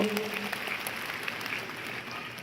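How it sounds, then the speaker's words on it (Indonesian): Church congregation applauding during a sermon, a steady, fairly quiet wash of clapping from a crowd that carries evenly through the short stretch. "tepuk tangan buat Tuhan kita Bapak Ibu"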